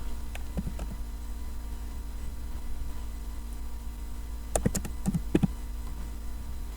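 A computer keyboard is tapped to enter a one-time passcode, with a few soft keystrokes early on and a quick cluster of sharper clicks later, all close over a steady low hum.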